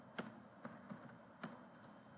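Keystrokes on a computer keyboard while entering Kali Linux terminal commands, several separate clicks spaced irregularly at close range, fairly quiet with no talking.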